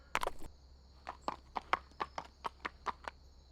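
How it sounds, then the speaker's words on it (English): Light hoof clops from young foals shifting about in a stable stall in a horse cartoon, a quick burst followed by a scattered series of soft, close steps, with nobody speaking. "They're just foals, Aztec. They're not used to sleeping in a stall without their mother"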